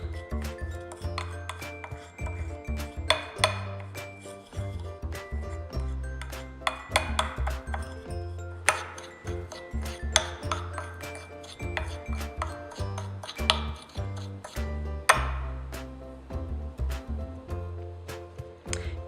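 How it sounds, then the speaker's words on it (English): Homemade microdermabrasion paste is stirred in a container, giving a steady gritty scraping and rubbing with occasional light clinks, fairly close and continuous with no talking. "You will then stir until your mixture resembles a thick paste."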